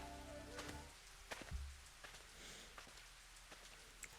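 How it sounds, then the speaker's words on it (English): Steady rain pours down in a Higurashi video game scene, a continuous wash of rainfall with scattered droplet taps and a brief low thump partway through. "The rain was still pouring down."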